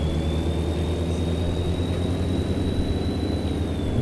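A truck engine running in a driving video game, a steady low drone with a faint constant whine above it, unbroken and fairly loud throughout.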